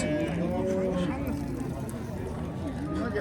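A cow at a busy livestock market in Qarshi gives a drawn-out moo near the start, set against a steady crowd murmur and voices talking over the bustle.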